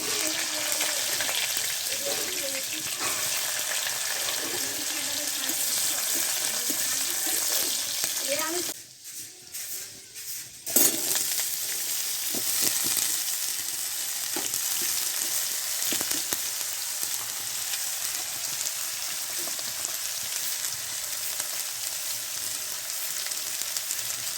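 Cumin and sliced onion frying in oil, a loud continuous sizzle close by, briefly dipping for a couple of seconds before surging back, with occasional stirring scrapes and a voice speaking faintly under it.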